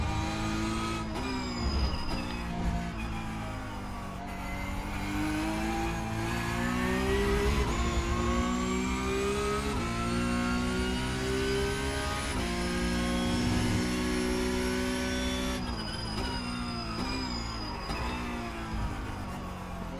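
A Porsche Cup race car engine in the iRacing video game revs loudly and steadily, its pitch rising and falling through gear shifts over about twenty seconds, close and continuous with no talk.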